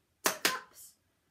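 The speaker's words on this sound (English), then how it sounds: "And that's the sound of the shuffle." A tap dance shuffle: two quick scuffing taps of tap shoes on a hard floor followed by a softer brushing slide, close and crisp, with no voices.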